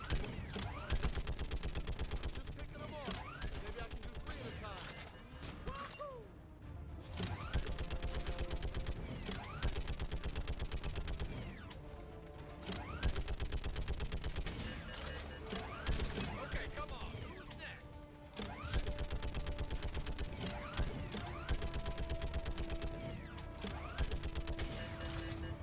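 A turret fires in Mass Effect 3, rapid rattling bursts repeating in long volleys with brief pauses between them, mechanical clanks mixed in and players chatting over it.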